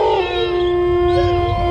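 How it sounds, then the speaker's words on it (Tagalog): A dog howls in a long, sustained wail that rises and bends in pitch, loud and close, heard alone against a low background rumble. "ang alulong ng aso"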